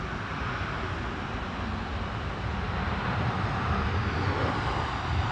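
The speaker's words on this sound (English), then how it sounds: "Gulf Air Flight 5 from Bahrain. This is A9C-FE 787-9 Dreamliner." Gulf Air Boeing 787-9 Dreamliner, registration A9C-FE, on Flight 5 from Bahrain at Manchester Airport, gives a steady, broad jet engine roar that holds constant and swells slightly toward the end, with no voices.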